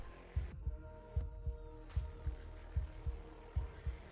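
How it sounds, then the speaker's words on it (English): A heartbeat in the video game Slay the Princess thumps in low, soft double beats at a steady, slightly quick pace over a faint background hum. "can you hear that heart beating?"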